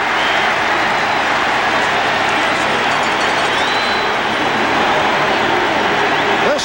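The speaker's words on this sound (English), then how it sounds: "This time, Lewis Phillips was able to get a piece of it, and the crowd reacts." A stadium crowd of close to 60,000 at Riverfront in Cincinnati roars steadily through a 1989 Bengals–Colts football game, a dense, sustained cheer that swells slightly toward the end.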